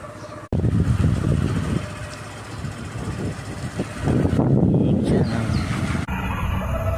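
A motorbike engine runs steadily during a ride, a loud, continuous rumble that swells and eases slightly, heard alone without talk.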